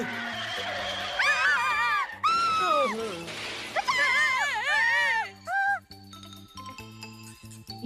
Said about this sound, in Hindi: ये कौन चिल्ला रहा है?